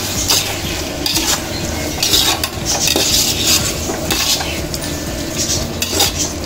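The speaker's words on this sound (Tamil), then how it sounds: "அதை சேர்த்து நல்லா கிண்டி வச்சுக்கணும்." Tomatoes are stirred in a cooking pan for quail biryani, with a utensil scraping and clinking against the metal in irregular strokes over a low sizzle and no talking.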